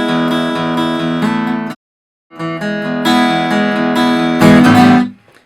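Acoustic guitar playing a verse passage from a song, a steady stream of strummed chords heard alone, with a short silent break partway through and a louder, fuller stretch near the end.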